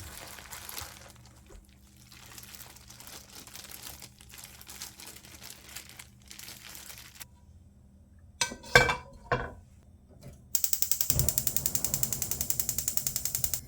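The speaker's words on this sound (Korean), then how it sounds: "계란 반죽과 잘 섞어서 준비해주고" Egg batter for a squid and minari pancake is mixed in a bowl: a few scattered clinks, then a fast, even run of rhythmic tapping as the batter is beaten near the end.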